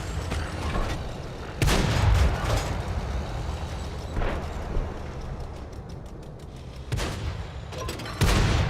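Tank cannon shots in a video game boom out in several heavy blasts spaced a few seconds apart, each followed by a rumbling decay over a constant mechanical background.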